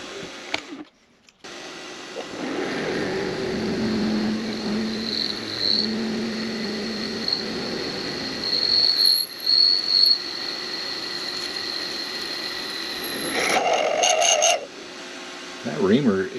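A reamer cuts a hole in a part for a small model engine, likely on a lathe, producing a continuous grinding whir with high metallic squeals and tonal whines. A brief rattling clatter comes near the end.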